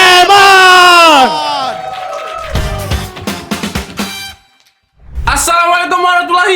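An audience at a Terabas Labs stand-up show cheers loudly for Raymond as he is introduced, with high, sweeping shouts and whoops. A brief silent gap comes before another burst of cheering.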